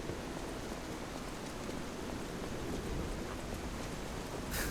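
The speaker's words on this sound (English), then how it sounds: "It started heavy raining." Heavy rain falls as a dense, steady hiss that holds at an even level throughout, with no voices.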